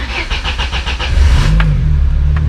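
A Peugeot 206 track car's starter cranks in a quick, even run of pulses for about a second before the engine catches and settles into a loud, steady idle close by.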